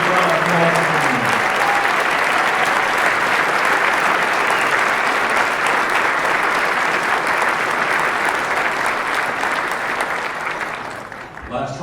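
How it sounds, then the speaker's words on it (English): Sustained, loud crowd applause fills a banquet hall at an Association of the United States Army veterans dinner, honoring Marines, steady for about ten seconds before tapering off. "Let's give a big round of applause for the Marine."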